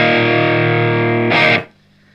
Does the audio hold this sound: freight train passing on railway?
no